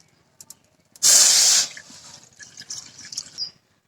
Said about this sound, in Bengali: সেই জলটা আমি এই পাত্রে করে কড়াইতে দিয়ে দিই